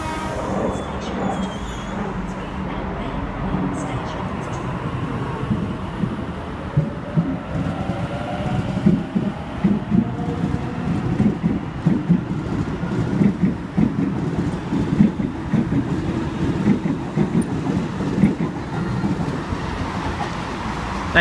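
Sydney Trains V set double-deck train approaching a platform, a continuous low rumble and rattle of wheels building over twenty seconds with a faint squeal, loud and steady with station ambience around it.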